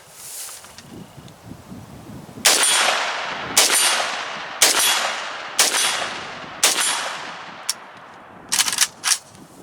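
Palmetto State Armory AK-104 rifle fires about eight loud, sharp shots at irregular intervals, with a quick pair closing the string. Quiet outdoor rustle comes before the first shot.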